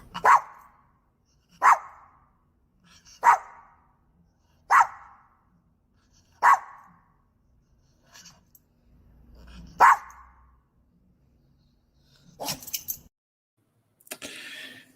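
A dog barks in single sharp woofs, about six evenly spaced barks then a few softer, rougher yips and whines, close and loud against a quiet room.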